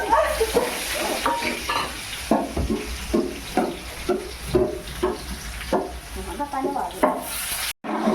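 Mango pickle frying in a pan with mustard and fenugreek seeds, stirred steadily with a spoon; a close, rhythmic series of scraping strokes over a continuous oily sizzle, with no talk.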